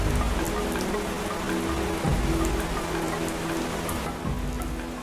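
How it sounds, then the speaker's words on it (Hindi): Steady rain falling on surfaces at the start of a monsoon shower, a dense continuous patter with scattered nearby drops and a faint low rumble underneath, no voices. "ये बरसात की शुरुआत है।"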